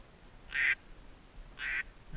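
Two short, nasal quacks from a drake duck during a late-season duck hunt, spaced about a second apart and fairly close against a quiet outdoor background.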